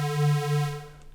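A sustained bass preset from an Arturia MicroFreak synthesizer holds one steady low, buzzy tone with rich harmonics, swelling gently twice before fading out near the end.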